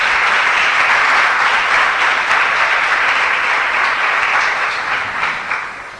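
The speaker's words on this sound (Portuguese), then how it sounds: "Dá um aplauso bem lindo ao Espírito Santo." Loud, dense applause from a church congregation during a Sunday morning service, a continuous wash of clapping that holds steady and then tapers slightly toward the end, with no speech over it.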